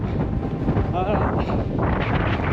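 Wind roars steadily across a mountain summit on a trail marathon course and buffets the microphone as a loud, continuous rush. A voice speaks briefly over it.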